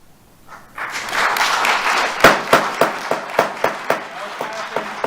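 Audience applause at a public meeting swells into a broad wash of clapping, then thins to a run of sharp, evenly spaced claps from a few people near the end. Voices are heard underneath.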